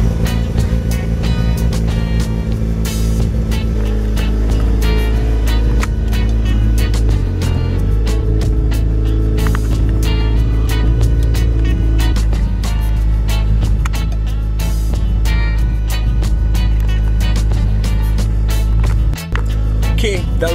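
Rotary engine of a Mazda RX-7 FD3S, fitted with a new alternator, running at a steady idle: a continuous, close, buzzing drone with faint rattles and clicks throughout.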